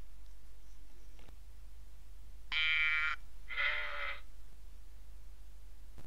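Two bleats from a sheep, a short bleat followed by a second, slightly softer one, over quiet outdoor background noise.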